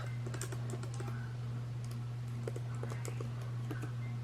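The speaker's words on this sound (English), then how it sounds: "I thought I typed in YouTube." Quick, light keystrokes on a 13-inch 2020 MacBook Pro keyboard patter in uneven bursts over a steady low background hum.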